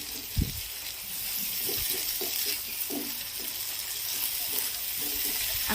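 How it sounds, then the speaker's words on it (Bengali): Ginger garlic paste fries in a pan for a prawn malai curry with a moderate, watery sizzle and occasional stirring scrapes, opening with a sharp knock of utensil on metal. "এবার আদা রসুন দিয়ে এবার ভালো করে কষবো"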